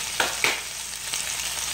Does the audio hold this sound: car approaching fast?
no